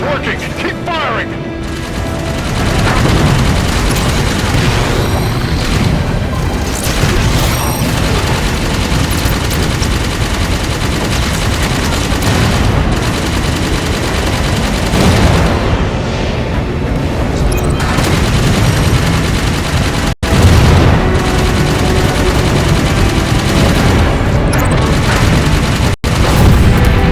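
Banshee weapons in Halo 5 firing continuously amid heavy, booming explosions, a dense, loud battle mix that stays intense throughout, with occasional voice chatter underneath.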